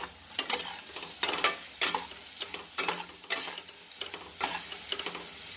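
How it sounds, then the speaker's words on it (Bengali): A spoon stirs jackfruit curry with masala and chili powder in a pan, producing a series of irregular scraping strokes with soft sizzling between them, fairly quiet and close, with no talking. "সবটা মশলাটা মিক্স করে দিলাম সামান্য একটু লঙ্কা পাউডারও দিয়ে দিলাম"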